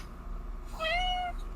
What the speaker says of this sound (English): I'm distracted by a cat.